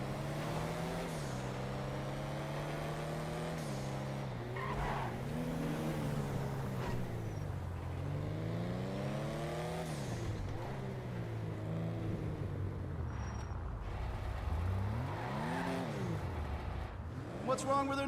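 A JB 700 car driven in a video game, its engine note climbing and dropping through repeated revs and gear changes, steady and clear, with someone talking over it.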